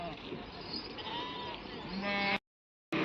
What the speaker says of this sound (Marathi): हे बघा ह्यांच्या मेंढ्या